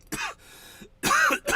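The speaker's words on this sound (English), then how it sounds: "Well, you cough a little" A person coughs after inhaling a dab, two short harsh bursts separated by a pause, close to the microphone and with no talk.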